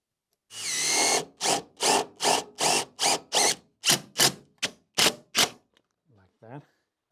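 A power drill drives a self-tapping screw into metal on a Lada Niva lying on its side, in a rapid series of about a dozen short, loud bursts that gradually shorten. A faint voice follows briefly at the end.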